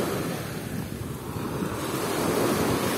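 Waves roll onto an empty Azov Sea beach in a steady, close, loud wash of surf, mixed with wind rumbling across the microphone and no voices.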